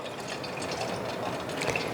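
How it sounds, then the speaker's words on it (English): Melted tallow pours steadily into a jar, making a soft, continuous liquid trickle at close range with no talking. "just pour it into the jar."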